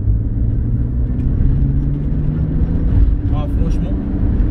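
A Toyota FJ Cruiser 4x4 pushes hard along a dirt track, its engine a steady loud rumbling drone with road noise throughout, while people talk inside the cabin.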